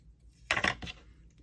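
Scissors cut through paper for a junk journal cover, giving two or three quick crisp snips in a brief close burst, then quiet.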